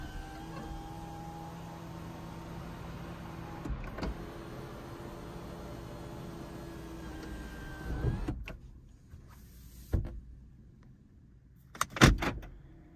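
The power sunroof of a 2024 Lexus ES300h F Sport motor-slides with a steady electric whir and faint whine, stops with a soft thunk, and then a few clicks follow in the quiet cabin.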